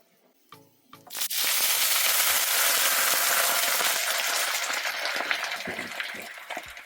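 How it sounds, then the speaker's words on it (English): Water poured into a hot pan of frying beef dumplings, a few soft clinks, then a sudden loud hissing sizzle that erupts and stays steady, slowly easing over several seconds. "We're gonna add some water to it"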